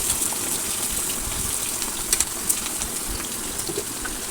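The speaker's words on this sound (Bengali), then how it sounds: "পটলটা আমি ভাজবো।" Pointed gourd (potol) frying in hot oil with a little salt and turmeric gives a steady, close, even sizzle throughout, with a few brief crackles and no talk.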